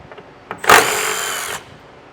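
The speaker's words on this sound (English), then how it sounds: "So I got a 10mm socket, and I'm going to get these 3 bolts" A power tool with a 10mm socket spins off a bolt on a 2022 Ford Ranger, one close, loud whir that lasts about a second before it stops.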